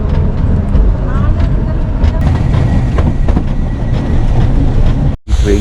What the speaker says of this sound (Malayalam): ട്രെയിൻ ഇപ്പം ഫസ്റ്റ് സ്റ്റേഷൻ നിർത്തിയിരിക്കുകയാണ്